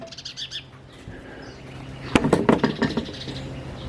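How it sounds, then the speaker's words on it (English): A bird chirping and flapping its wings close by, a cluster of sharp fluttering bursts and quick calls that grows louder midway, with no voices. "This bird is so fucking annoying."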